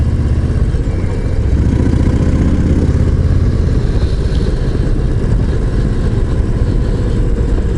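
Harley-Davidson Low Rider ST V-twin idling low at about 1200 RPM, a close, continuous rumbling lope with uneven low thumps holding steady for several seconds, no talking.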